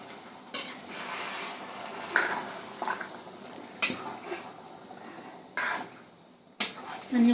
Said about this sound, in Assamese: পানী দি পেলাই অকণমান মিক্স কৰি দিছোঁ।